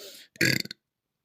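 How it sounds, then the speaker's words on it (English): A short, close, guttural burp rumbles for a fraction of a second right after a brief bit of voice, then silence. "I literally just silently burped away from my microphone, and then you do that."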